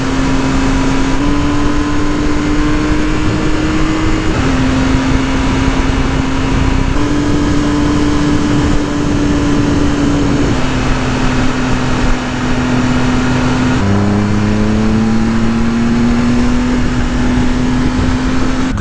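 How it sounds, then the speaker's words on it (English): A 2018 Triumph Speed Triple 1050 S motorcycle engine drones steadily while riding curvy roads, its pitch stepping up and down through gear changes with a faint burble as it decelerates, loud and close with no talking. "It's starting to get that little bit of burble on deceleration."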